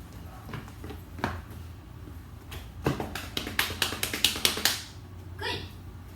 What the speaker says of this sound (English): clapping my hands, stomping my feet